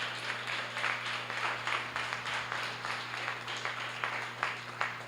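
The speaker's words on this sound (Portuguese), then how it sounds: "Você pode dar uma salva de palmas bem bonita para o Senhor Jesus nessa noite?" A church congregation at an evening Pentecostal celebration service applauding together, a steady wash of many hands clapping that swells and pulses evenly for several seconds, with no voices standing out.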